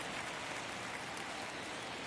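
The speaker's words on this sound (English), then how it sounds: "It feels like we might be headed towards a rain delay if the weather doesn't ease up, Chris." Steady, dense rain falling during a Dodgers vs. Phillies baseball game in MLB The Show 22 on PS5, a continuous even hiss filling the whole stretch with no talk.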